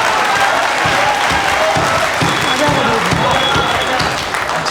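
A crowd at a Hindi poetry gathering, a kavi sammelan at the Jalbihar fair, gives a loud, sustained round of applause, a dense clapping wash that goes on throughout with some cheering, and a voice speaks under it.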